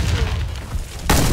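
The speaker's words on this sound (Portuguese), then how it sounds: "Lançando granada!" A grenade goes off in a team shooter video game, a loud muffled boom at the start followed by a sharp burst near the end.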